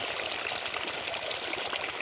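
Water gushing steadily from a borewell pipe into a farm field, a continuous close rushing splash with no pauses while an engine pump runs the well.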